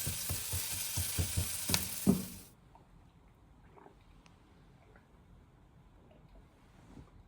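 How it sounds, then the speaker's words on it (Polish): Carrot and onion frying in a pan give a loud sizzle with stirring clatter for about two seconds, then the sound drops away to a faint, quiet background. "Marchew z cebulą jeszcze chwilę. Musi się lekko zeszklić i będę dokładał pieczarki."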